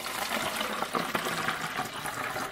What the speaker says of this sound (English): Here's a clearly marked container for the bleach fix, and I'll pour that in.